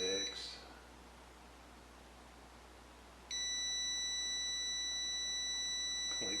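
A continuity tester's buzzer on a vintage Hallicrafters SX-99 shortwave radio under restoration gives a brief beep, then goes quiet for a few seconds before sounding again as a steady, loud electronic tone.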